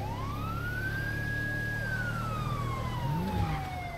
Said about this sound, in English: every time I push that siren button